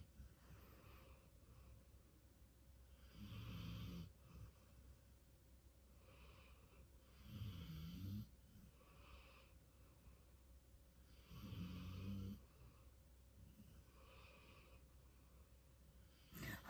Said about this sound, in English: All I can hear is snoring dogs.